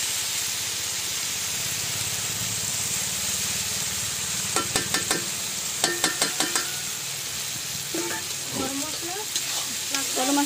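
Vegetables hitting a hot, sizzling pan in a communal picnic kitchen, a steady frying hiss throughout with a cluster of sharp clatters and stirring knocks midway and toward the end.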